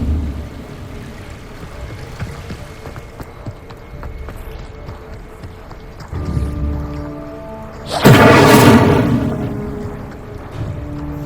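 A fire spell bursts from a wand in the Hogwarts Legacy video game, a loud roaring whoosh of flame that flares suddenly near the end and fades out over ambient game sounds, with no talking.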